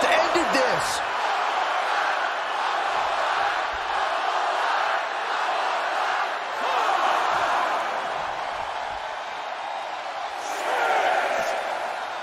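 A wrestling arena crowd in WWE 2K24 roars and cheers continuously, swelling loud at the start and again near the end, with faint thuds scattered through the dense noise.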